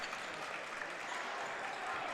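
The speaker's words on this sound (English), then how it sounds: "They clap, they cheer on the defense." Fans packed into the stands at a boys high school sectional basketball game clap continuously and cheer for their defense, a broad, even wash of crowd applause echoing through the gym.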